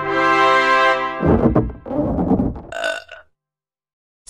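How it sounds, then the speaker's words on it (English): A long, loud, deep burp, followed by more gurgling belching and a short higher-pitched tail before silence. "You burp when air in your stomach comes out of your mouth and makes a noise."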